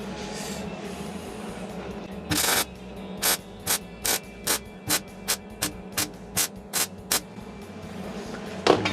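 Tack welding holds a rally arch in place on a car. A longer burst is followed by a quick series of short, even crackling zaps, about a dozen at regular intervals, close and loud over a low background hum, with no talk.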